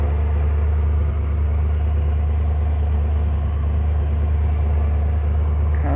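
A car engine idles steadily with its exhaust running, a loud, close, continuous low rumble that holds unchanged throughout with no voices.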